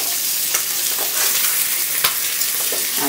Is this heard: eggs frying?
yes